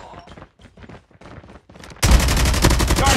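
Gunfire in the mobile shooter game Call of Duty Mobile, starting with a few faint scattered shots and then a sudden loud, dense burst of sustained automatic fire that fills the rest of the moment.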